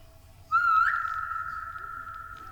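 A single whistle in the game Ikea: a bright rising note that settles into a steady, clear tone lasting about two seconds, fairly faint, with no talking over it.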